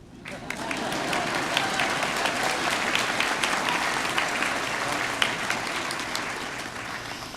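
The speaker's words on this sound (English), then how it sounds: "Applause." An audience at a University of Guelph-Humber convocation ceremony breaks into applause. Dense, sustained clapping from a large crowd fills the hall evenly, starting abruptly and holding steady for several seconds.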